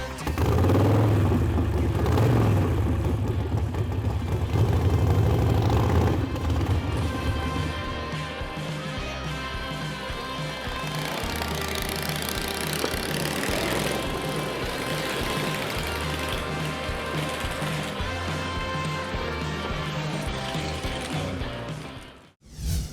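Custom retro American-style chopper motorcycle with an Idemo tank, its engine idling loudly and continuously with an uneven rumbling pulse throughout, music mixed in early on, ending abruptly in a brief quiet.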